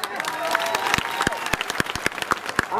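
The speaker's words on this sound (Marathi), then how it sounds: "जोरात टाळ्या वाजवा" A rally crowd applauds, with sharp, uneven handclaps popping out of a dense, steady wash of clapping that carries on for the whole stretch.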